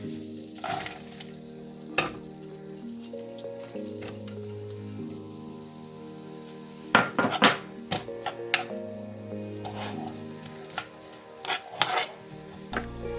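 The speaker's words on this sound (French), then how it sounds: "de beurre, on fait fondre. On va y ajouter les 2 oignons hachés." Chopped onions fry in melted butter in a pan, a steady sizzle running throughout with a few sharp clinks and scrapes of a utensil against the pan. A faint melodic background tone sits underneath.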